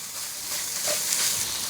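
Ground pork dropped into hot oil in a pan sets off a steady, close sizzling hiss that swells slightly and holds through to the end.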